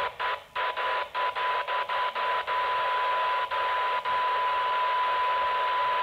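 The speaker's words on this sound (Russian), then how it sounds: "даже на 130 уже слышен сигнал" A test signal received on a Wouxun KG-UV9D Plus radio emerges as a steady tone through hissy static, opening with a rapid series of short interruptions before settling into a continuous, unbroken whine.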